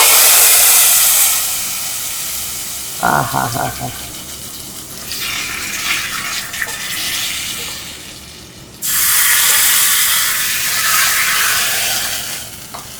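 Hot tempering poured into a Kannada-style buttermilk curry with ash gourd, a sudden loud sizzle and hiss that fades, flares again and settles into frying crackle, while a voice exclaims briefly.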